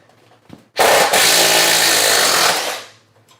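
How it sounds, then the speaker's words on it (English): A DeWalt XR power drill whirs loudly for about two seconds in one steady burst while drilling holes, starting abruptly and winding down, with a brief click beforehand. "this is going to be my first time drilling any holes with this particular drill"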